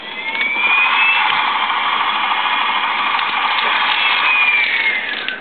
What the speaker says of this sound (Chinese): 有一个直升机的引擎的声音会出现，